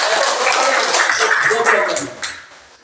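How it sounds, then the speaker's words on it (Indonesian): A classroom of pupils clapping their hands together in an Indonesian lesson, a dense, loud burst of many claps close by that trails off toward the end, with voices mixed in. "kita harus tepuk tangan semangat dulu"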